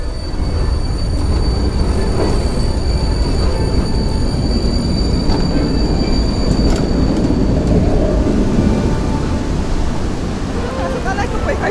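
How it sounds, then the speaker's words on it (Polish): A tram in Vienna rumbles loudly and steadily along the tracks, with rattling wheels and a faint high squeal throughout. "Tramwaj"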